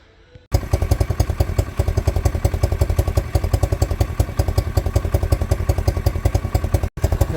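A pit bike's small single-cylinder engine fires up after a couple of kicks on fresh petrol and reserve fuel, then idles loudly and close with a steady rapid clattering chug that continues to the end, briefly cut off near the finish.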